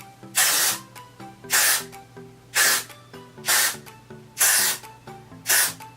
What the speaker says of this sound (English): I'm going to go ahead and start spraying my roots down with hairspray.